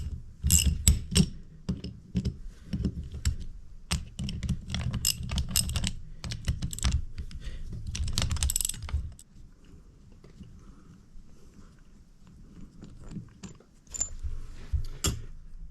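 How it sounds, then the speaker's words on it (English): Tools clicking and metal parts clinking while bolts are undone on a Massey Ferguson 178 tractor's power steering pump, irregular close taps and rattles that thin out after about nine seconds, with no talking. "undo these 4 bolts in the end here, and that will take the pump apart"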